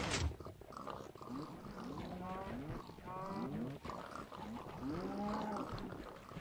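Several video game cows moo in overlapping, drawn-out calls in a slaughterhouse breeding game, a steady chorus of lowing against a faint background.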